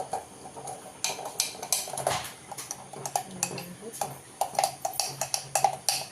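A spoon clinks and scrapes against a bowl while neem and manjistha powders are stirred together for homemade soap, with irregular metallic taps over a quiet background and a voice speaking intermittently.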